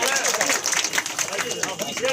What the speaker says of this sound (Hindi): जोरदार तालियां आपकी तरफ से होनी चाहिए